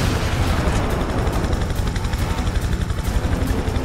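A helicopter is shot down in the video game Prototype 2, with rapid rotor chopping pulsing under a dense roar of gunfire and booming impacts, loud and close with no pauses.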